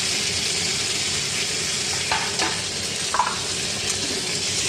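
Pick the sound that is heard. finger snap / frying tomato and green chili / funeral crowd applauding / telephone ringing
frying tomato and green chili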